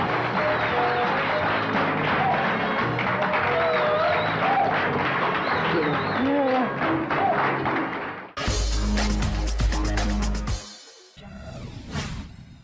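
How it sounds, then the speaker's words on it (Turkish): Studio audience applauding on the 1990s Turkish TV game show Saklambaç, hosted by Nurseli İdiz, with a dense, steady wash of claps and crowd noise, then a few heavy thumps and scattered claps near the end. "Alkış."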